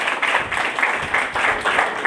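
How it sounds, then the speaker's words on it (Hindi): Loud applause from a church congregation during a Father's Day sermon, swelling in several rhythmic waves of clapping across the clip. "जोरदार तालियां बजाएं उस बाप के लिए।"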